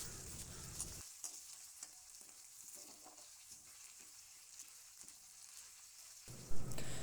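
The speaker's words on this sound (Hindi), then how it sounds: "अब इसमें मैं शामिल कर दूंगी लहसुन, अदरक और सब्ज़ मिर्चों का पेस्ट और इसको भी ना हल्का सा भून लेना बस ऑयल के साथ" Garlic, ginger and green chilli paste frying lightly in oil for a saag tempering, a quiet steady crackling sizzle with soft scattered pops, close by and alone.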